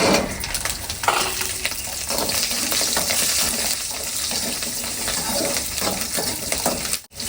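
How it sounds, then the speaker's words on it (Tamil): Shallots and garlic sautéing in hot oil for a sundakkai vathal kuzhambu, giving a steady, fairly loud broadband sizzle with occasional stirring scrapes that runs the whole time before cutting off abruptly at the end. "சாம்பார் வெங்காயமும் பூண்டு இப்போ எண்ணெயிலேயே நல்லா வதங்கணும்"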